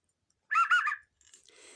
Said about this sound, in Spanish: Este silbato tiene que ser utilizado en caso de emergencias para dar una señal de vida.